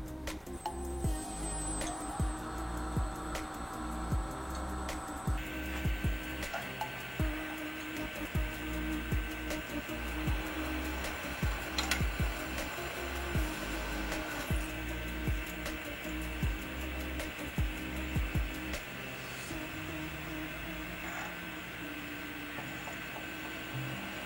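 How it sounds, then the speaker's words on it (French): A steel column for a two-tonne benchtop hydraulic press is drilled through its holes, a steady machine whine droning throughout with regular rhythmic ticks and knocks, moderately quiet and without talk. "maintenant je vais percer, contre-percer dans mes trous de façon à être exact"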